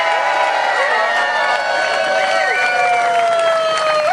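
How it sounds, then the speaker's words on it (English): A large crowd at a public sector workers' rally roars and cheers loudly and continuously, with whoops and whistles rising over a dense wash of clapping and shouting. "give yourselves a big clap"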